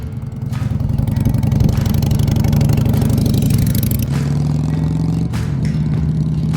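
A Harley-Davidson motorcycle engine runs on a road trip in Mexico, a loud close low rumble that swells and holds steady, then settles into a smoother tone with a few clattering bursts.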